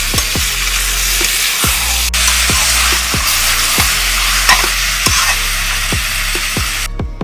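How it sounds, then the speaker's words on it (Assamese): Duck meat frying in a pan with onion, ginger and garlic for a duck thali cooked outdoors, a steady loud sizzle with repeated scraping stirs at regular intervals throughout. "এতিয়া এইখিনি ধুনীয়াকৈ ইয়াৰ লগত ভাজি থাকিম।"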